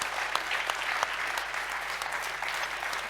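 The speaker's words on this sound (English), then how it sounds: "So if we could give a round of applause to everyone that's made this evening possible." Steady applause from an audience at an evening event on resilience for critical national infrastructure, dense clapping filling the room at moderate volume with a few sharper claps standing out.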